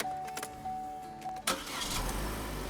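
A Vauxhall Astra in need of serious work cranks briefly, then its engine fires and settles into a steady, fairly loud idle close by.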